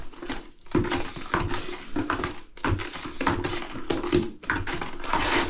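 Tile grout is mixed by hand in a small container, giving repeated scraping and gritty churning strokes in an uneven rhythm, close and moderately loud, with short pauses between bursts.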